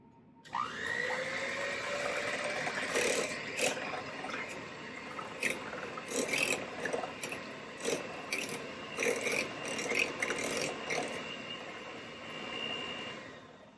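Tres leches batter with vanilla is given a quick mix in a bowl, a continuous close scraping and whirring broken by repeated short clattering knocks.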